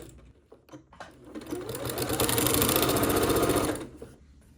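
Sewing machine stitching binding onto an heirloom quilt: a few soft starts, then a steady rapid mechanical whir that builds, runs about two seconds and stops, close and alone.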